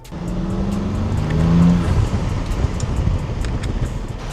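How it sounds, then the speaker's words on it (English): A Bronco SUV's engine revs up with a rising turbo whine, then settles into a rumbling drive with wind buffeting the microphone. "Let me see if I can show you guys how loud this turbo is too."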